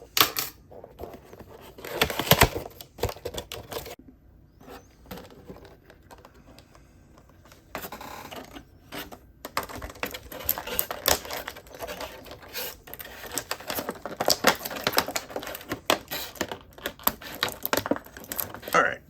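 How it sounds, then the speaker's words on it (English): Plastic and cardboard packaging of a GI Joe Classified BAT figure being torn open, bursts of crinkling, rustling and tapping that thin out briefly midway before resuming busily, close by. "let's rip this thing open."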